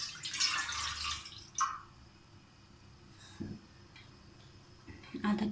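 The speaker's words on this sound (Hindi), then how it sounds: "इसमें हम पानी डालते हैं 1 पाव।" Water poured from a vessel into a pot on a lit stove to start sugar syrup: a brief rushing splash at the start, then quiet kitchen stillness with a few faint clinks.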